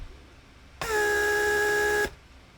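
A Mercedes S-Class vacuum pump for the door locks and headrests runs steadily for just over a second, a loud, even electric drone with a strong tonal whine, starting and stopping abruptly against a quiet background.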